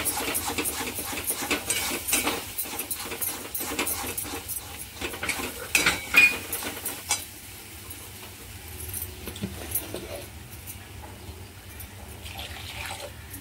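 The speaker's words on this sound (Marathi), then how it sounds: "आता थोडीशी हळद टाकायची, 1 चिमूटभर. आणि चांगलं मिक्स करायचं." A spoon clinks and scrapes steadily in a pan as a pinch of turmeric is stirred into cashew (kaju) masala. The scraping is busy for the first half, then softer, wet mixing follows, with no talking.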